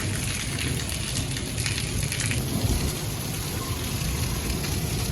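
Heavy rain pours down continuously in Gujrat during a storm mixed with hail, making a dense, loud roar throughout with a low rumble rolling underneath.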